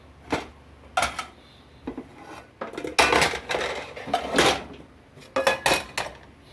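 Pots, dishes and cutlery clatter and clink in sharp, irregular bursts during stove and oven cleaning in a home kitchen, with quieter gaps between the knocks.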